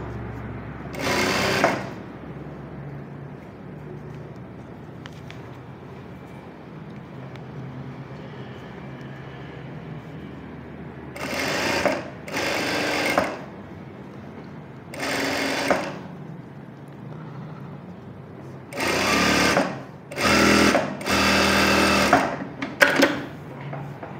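A sewing machine stitches an umbrella frock in several separate bursts of fast, buzzing needle rattle, close and clear, with quiet pauses between runs and no talking.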